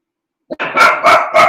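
A small dog lets out a short yip, then three loud, sharp barks close by in an otherwise quiet indoor room.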